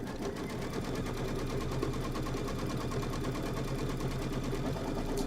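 Embroidery sewing machine running a quilting stitch on an appliqué quilt block, a steady rapid needle chatter with a constant motor hum, continuous and close, with no talk.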